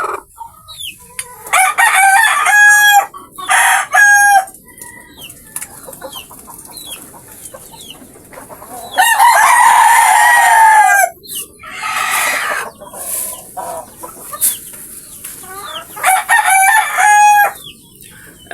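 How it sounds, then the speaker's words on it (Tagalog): Chickens on a farm, including a fierce brooding mother hen, raise repeated loud squawks and clucks in bursts, with a rooster-like crow among them, close by. "Yan, masyado matapang ating inahin"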